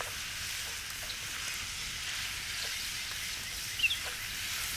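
Beef searing in a hot pan for a creamy beef pasta, a steady close hiss of sizzling fat running throughout with a few faint pops and crackles, no voices.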